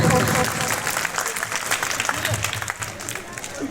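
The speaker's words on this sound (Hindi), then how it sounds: "एक बार जोरदार तालियों के साथ इस बच्चे का हौसला बढ़ाएं" A crowd at an Ambedkar Jayanti village celebration in India claps loudly, the applause fading slightly over a few seconds, with voices mixed in among the clapping.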